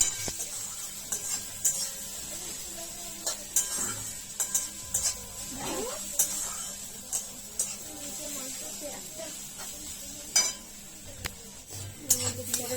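Onion with garlic paste frying in a pan at home: a soft, continuous sizzle with scattered clinks and scrapes of a utensil against the pan, fairly faint and without speech.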